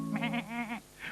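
A baby goat from a Sylvanian Families story gives a few short, wavering bleats in quick succession, fairly close and clear, then a fainter higher call trails after a brief pause.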